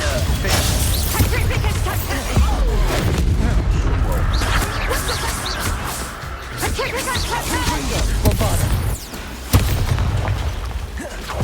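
Bombarda and Confringo spell explosions in Hogwarts Legacy, rapid booming blasts and bursts layered over a dense, noisy combat soundscape, loud and continuous, with voices shouting over them.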